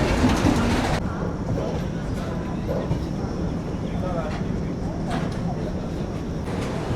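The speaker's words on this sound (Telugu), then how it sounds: "మన ట్రైన్ గుత్తి జంక్షన్కి అయితే రీచ్ అయింది" Tirumala Express 18522 pulling into Gooty Junction, a loud, continuous rolling rumble with wheel clatter running through the whole stretch, faint voices mixed in.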